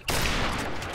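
A burst of rapid gunfire from Call of Duty Modern Warfare Remastered, loud and close, a dense rattle of shots starting sharply and sustained for about a second with no speech.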